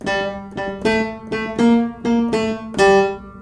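A short bluesy piano riff of repeated chord stabs in a bouncing rhythm, bright and close, played alone without talk.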